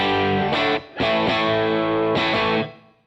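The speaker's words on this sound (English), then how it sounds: "So you can get all of those really nice sort of AC30 drive tones without diming everything." Electric guitar played through a Divided By 13 RSA23 amp with an AC30-style drive tone: a few sustained overdriven chords, briefly cut and restruck, then left to ring and fade.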